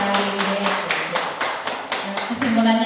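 Applause for everyone at a school gathering on positive discipline culture, a few seconds of steady clapping with a voice and a low tone running underneath.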